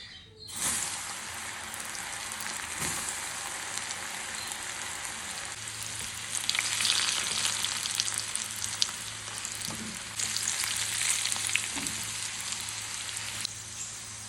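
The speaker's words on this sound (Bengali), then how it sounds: "কড়াইয়ে তেল গরম হয়েছে, এবার আমি দিয়ে দেব" Pieces of bitter gourd fry crisp in hot oil in a kadai with a continuous, dense crackling sizzle that swells and settles a few times, close up and without speech.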